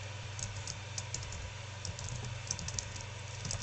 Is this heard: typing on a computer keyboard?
yes